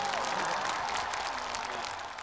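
A studio audience at a televised folk-song competition applauds as three judges are welcomed, producing a steady, moderately distant wash of clapping with faint cheering.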